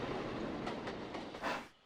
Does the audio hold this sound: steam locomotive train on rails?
yes